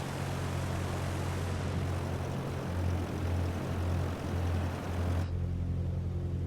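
A Piper L-4 light aircraft's propeller engine drones steadily in flight in Microsoft Flight Simulator 2020, a loud continuous low hum that cuts off abruptly near the end, leaving a quieter engine tone.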